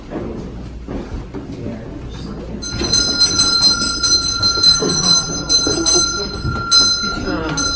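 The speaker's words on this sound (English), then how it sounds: "I'm going to ring a bell" A hand bell rung inside the historic Hampton mansion in Towson, Maryland, chiming with a bright, sustained ring that starts a few seconds in and keeps going under people talking in the room.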